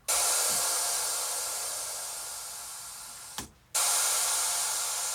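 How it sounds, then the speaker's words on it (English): Synthesized crash cymbal in a music production session, a bright noisy hiss that bursts on and slowly decays, is cut off briefly, then bursts again at full level. "you can get a really good kind of crash cymbal sort of"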